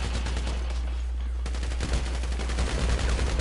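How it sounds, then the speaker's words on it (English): Live gunfire rattles at a police academy shooting range, with dense, rapid bursts of shots over a loud continuous low hum, close and harsh. "This is live fire. Now it's time to lock and shoot."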